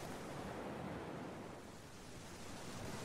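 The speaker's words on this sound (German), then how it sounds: "Das ruhige Meeresrauschen im Hintergrund sowie die Geräusche der Wasservögel" Calm sea surf washes steadily onto a beach as a continuous, even hiss that stays soft and fairly distant throughout, with no distinct bird calls standing out.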